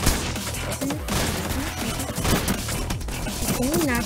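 Video game gunfire from Entry Point rattles in dense, continuous volleys under a busy mix of game sound, loud and sustained throughout.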